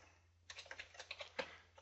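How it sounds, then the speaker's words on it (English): Quick, light keystrokes on a computer keyboard, about a dozen soft clicks in an uneven run, fairly quiet and close, with no voice over them. "I just love typing that G"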